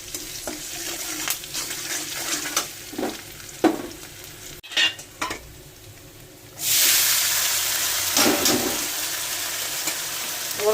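Sago is stirred in a frying pan with salt and turmeric, bringing a crackling sizzle and repeated utensil scrapes, then a sudden louder burst of hissing frying that holds steady to the end.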